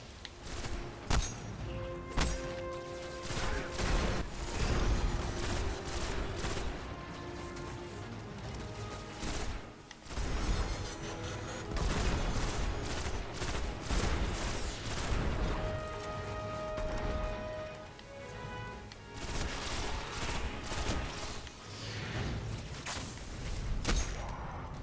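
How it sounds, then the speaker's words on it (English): Rocket launcher blasts and rapid gunfire from the video game Destiny come in dense, loud bursts of explosions and shots, with brief lulls between volleys. "Be careful when you use that rocket launcher."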